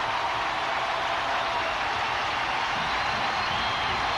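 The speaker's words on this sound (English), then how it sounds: "the crowd's starting to get back in" A stadium crowd at a 1996 Tennessee vs Florida college football game roars in a steady, dense wash of cheering that holds at an even level throughout, with no distinct voices standing out.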